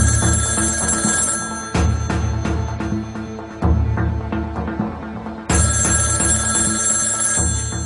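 A telephone ringing steadily in a domestic drama scene, a loud continuous bell tone with rhythmic repeating pulses and short breaks between rings, heard alone without voices.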